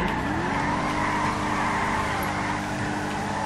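Engine roar with tire squeal from a BMW drifting and skidding in GTA 5, steady and loud throughout, with a rising whine near the start and a dense, continuous skid underneath.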